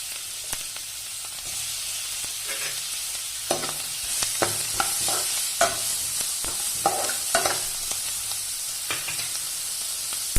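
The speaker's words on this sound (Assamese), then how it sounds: "বাটাৰখিনি ভালকৈ কেৰাহীখনত গলাৰ পাছত মই তাতে পিঁয়াজখিনি দি লৈছোঁ।" Onions sizzle and fry in melted butter in a kadai, a steady close hiss broken by scattered stirring scrapes and clicks, with no voices.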